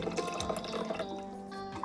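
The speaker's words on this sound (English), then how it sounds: "For the buttermilk now, I'll just get a container and just pour the liquid through." Buttermilk left over from making homemade butter pours through a strainer into a container, a steady close liquid trickle with drips running the whole time.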